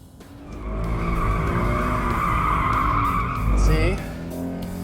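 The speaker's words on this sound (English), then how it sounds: "These all seasons are really loud and understeer terribly." Scion FR-S on all-season tires squealing as it understeers on a track, a loud sustained tire howl over engine drone with someone talking, ending in a sharp squeal burst before the noise eases.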